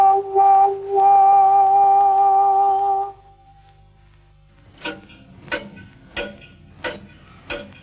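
Synthesized music imitates a ticking clock: a sustained electronic whistling tone fades out, then sparse, regularly spaced ticks sound one by one, clear and close, with nothing beneath them.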